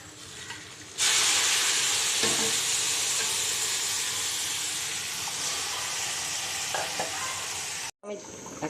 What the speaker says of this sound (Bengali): এখন আমি গরম পানি দিয়ে দিব।